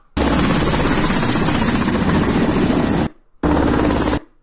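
A Kamov Ka-25 naval helicopter gives a loud, continuous rotor and engine roar for about three seconds, breaks off, then returns briefly.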